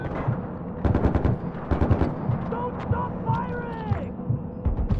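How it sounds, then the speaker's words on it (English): Rapid bursts of machine gun fire in a Far Cry 4 battle, several clustered volleys over a low rumbling backdrop, with voices shouting in the mix. "Don't stop firing! I've got the machine gun!"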